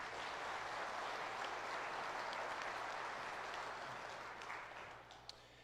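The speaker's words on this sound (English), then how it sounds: "give a round of applause to First Baptist Forney" An audience at a church applauds for First Baptist Forney, a sustained, fairly faint and distant wash of clapping that tapers off toward the end.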